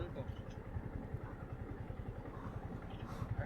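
A stopped vehicle's engine idles quietly at the roadside during a journey, a soft, even low chugging throughout, with people talking nearby.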